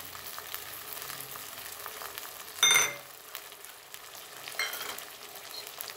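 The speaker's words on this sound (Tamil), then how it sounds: "இப்போ நல்லா அது வதங்கட்டும். கிண்டி விட்டுக்கிட்டே இருக்கேன்." Tomatoes, curry leaves and coriander sauté in a pan with a quiet continuous sizzle, broken by a sharp metallic scrape and clink of stirring and then a softer stir a couple of seconds later, with nobody talking.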